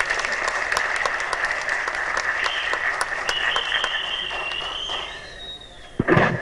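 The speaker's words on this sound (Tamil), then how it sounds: "கைத்தட்டலாம் திரு விஜய் சேதுபதி அவர்கள்." An audience at a film audio launch in Palayamkottai applauds an actor, a sustained dense patter of many hands clapping that fades near the end before a brief loud burst.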